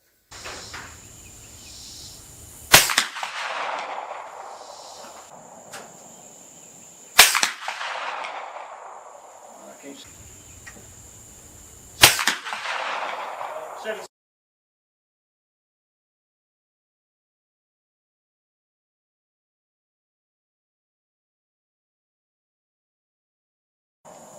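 Three suppressed shots from a Savage Axis rifle in 300 Blackout firing subsonic factory loads, each a sharp muted crack spaced several seconds apart with a short decaying tail, outdoors, then silence.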